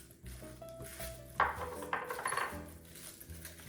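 Shrimp being tossed with smoked paprika in a bowl, giving scattered clinks and scrapes of a utensil against the dish, with a few louder knocks near the middle and quieter handling around them.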